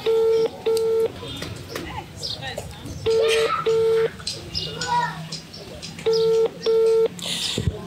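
French phone call ringing unanswered: a repeating ringback tone sounds in paired pulses about every three seconds, loud and clear, while people talk quietly underneath.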